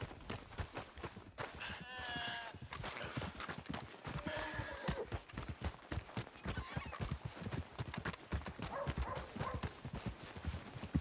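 Hooves clip-clop in a steady, busy rhythm close by in the video game Red Dead Redemption 2, with a horse whinnying a couple of times over the trotting.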